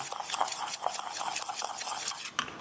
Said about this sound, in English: gonna go ahead and stir that up